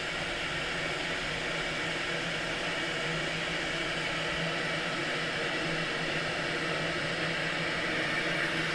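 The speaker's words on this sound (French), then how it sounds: "elle fait un petit peu de bruit comme toutes les bouilloires" A stainless steel Riviera & Bar Gaia electric kettle heats water with a steady, even hiss and low rumble that holds without a break from start to finish.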